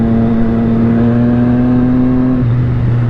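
A motorcycle engine hums loud and close at a steady pitch while riding, then drops slightly in tone near the end as the rider eases off, with no voices over it.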